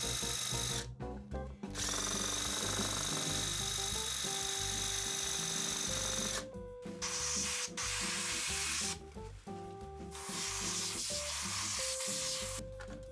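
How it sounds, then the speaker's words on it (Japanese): A nickel-plated part from a Sansui AU-D607X amplifier is polished with a power tool, giving a loud, continuous grinding whir that breaks off briefly several times and changes pitch as the load shifts. "ニッケルの錆は薬で溶けないので表面を研磨します。"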